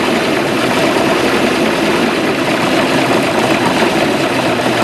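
A boat engine idles after a small choke adjustment, giving a steady, loud, continuous low rumble with no clear changes across the stretch.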